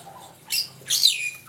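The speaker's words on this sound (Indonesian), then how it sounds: "Namanya jalak Bali." A Bali myna (jalak Bali), a talking bird, gives two sharp, harsh squawks close by in an aviary, each under half a second, with no speech over them.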